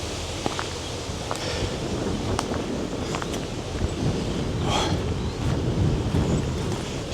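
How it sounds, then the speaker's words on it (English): Strong gusting wind buffets a microphone outdoors near an explosion site, a steady roaring rush with rustling swells and a few sharp knocks, loud and continuous with no talk. "it's windy."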